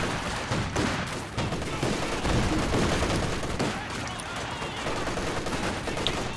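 Machine gun fire in a war video game, dense rattling bursts of gunfire that keep going the whole time, loud and busy with battle noise.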